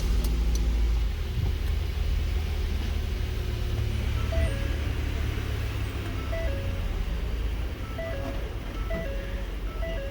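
A cold car engine runs steadily at idle after being started during a fuel rail lab, a loud, continuous low rumble up close with a faint repeating electronic beep chiming over it, and no talk.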